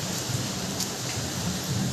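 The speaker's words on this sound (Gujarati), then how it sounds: "બહુ જ વરસાદ છે અતિશય." A very heavy downpour outside a home in Gujarat makes a dense, constant roar of rain with a low rumbling undertone, steady and loud from start to finish.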